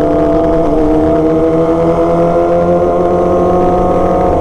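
A big motorcycle engine drones loud and close with steady harmonic revving throughout, a sustained throaty roar with no voices.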